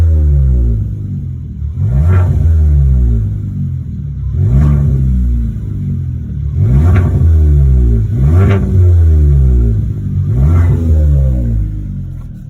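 Kia K5 GT-Line with new spark plugs and intake, engine warm, revved repeatedly: five strong rising revs about two seconds apart over a steady deep idle rumble, close and loud, no talking.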